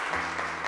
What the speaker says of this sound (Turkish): Aliye bir alkış alabilir miyiz? Tebrik ediyoruz.